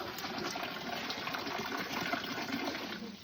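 Cool spring water in Meghalaya poured into a water bottle, a soft continuous gushing and trickling stream close to the mic with no talk.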